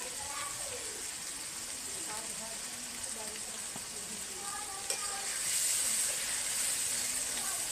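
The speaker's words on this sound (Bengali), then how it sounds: "শুকনো মশলাগুলোকে একবার দুবার নেড়ে নিয়েছি" Dry ground spices, red chili powder, Kashmiri chili powder and cumin powder, fry in a kadai while being stirred. A soft, even hiss and crackle continues throughout, with occasional faint scrapes and a quiet voice in the background.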